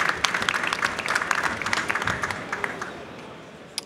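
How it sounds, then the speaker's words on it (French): Audience applause fills a conference hall at a water-reuse event in Montpellier, dense sustained clapping from many hands that gradually thins and fades toward the end. "Merci de l'applaudir, de les applaudir."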